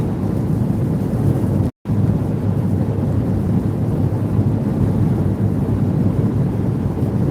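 Strong storm wind buffets the microphone in a steady, loud, continuous roar, with one brief dropout early on and no voices.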